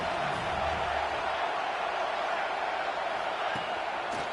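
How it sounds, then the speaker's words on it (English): Stadium crowd roar in the NCAA 26 college football video game, South Carolina versus Kentucky, building for a red zone defensive stand; a steady, loud wash of massed cheering that fills the whole stretch without a break. "This crowd is trying to inspire this defense to make a big red zone stop."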